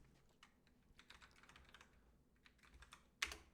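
Quiet, close keyboard typing, a quick patter of light key taps ending in one sharper, louder keystroke.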